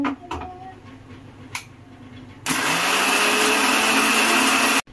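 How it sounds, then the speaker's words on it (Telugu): A kitchen mixer grinder whirring as it grinds masala with onion for crab curry, starting abruptly after a few light clinks and running at a loud, steady high-pitched roar before cutting off sharply at the end. "సో ఇప్పుడు ఈ మసాలా అంతా మనం ఆడేసుకుందాము"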